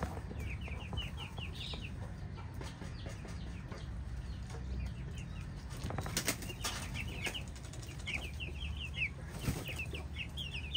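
Pigeons being bathed beat their wings in repeated bursts of flapping and splashing at close range, with soft bird calls around them in a quiet farm setting.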